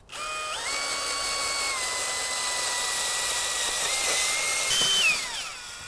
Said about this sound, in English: I've got my auger right here. This is what I use to plant bulbs.